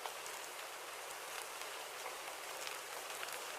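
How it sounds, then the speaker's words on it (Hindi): Steady rain sound effect from a Hindi village cartoon, unseasonal rain pouring as a continuous, even hiss of dense drops spread across the whole clip with no voices. "बारिश और तेज होने लगती है।"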